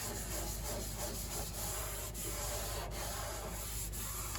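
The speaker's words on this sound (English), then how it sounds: "Sand, sand, sand." Hand sanding of the wooden case of an 1867 Chickering 33B piano under conservative restoration: a steady, close, continuous rasping rub with soft periodic strokes, alone with no voices.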